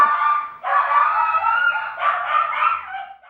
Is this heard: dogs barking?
yes